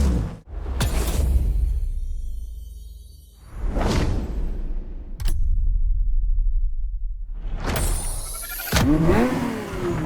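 A Ferrari F50 in the video game The Crew Motorfest roars past in repeated swooshing bursts, its engine revving loud and close with no talk over it.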